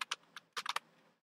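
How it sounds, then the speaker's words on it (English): Keystrokes on a computer keyboard: a quick burst of about eight crisp, close clicks in two short clusters, with no talking. "Here I'm going to type hello."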